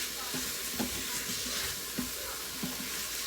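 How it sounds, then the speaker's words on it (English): Shrimp being stirred in tomato sauce in a frying pan: a steady sizzle with soft, scattered scraping and clinking from a utensil against the pan, close and fairly quiet, with no voices. "Go ahead and mix that all around."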